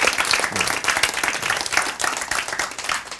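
Audience applause during a Korean Bible-and-science lecture: a lively burst of dense clapping from the room that stays loud and even for about three seconds.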